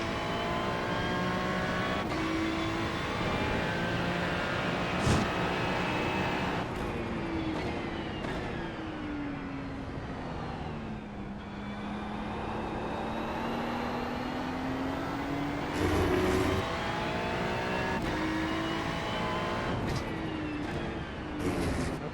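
GT3 racing cars in iRacing's 24 Hours of Daytona whine past with rising and falling engine tones, a continuous stream of high-revving motors and tire noise at moderate volume, no voices.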